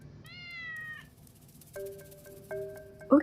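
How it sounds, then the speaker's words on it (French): A cat meows several times during a vintage caravan renovation: a drawn-out, wavering call followed by two shorter meows and a sharp final one, close and fairly clear over a quiet room. "Alors là, attention, parce que mon chat Molly est venue en inspectrice des travaux finis"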